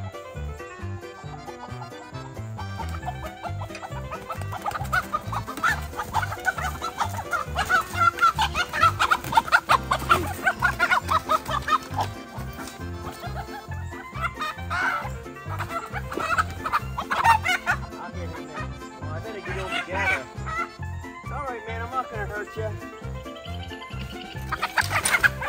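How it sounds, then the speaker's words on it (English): Country chickens cluck repeatedly over a busy, steady musical background, the clucks close and fairly loud throughout. "these are country chickens."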